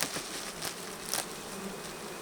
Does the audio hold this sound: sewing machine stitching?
no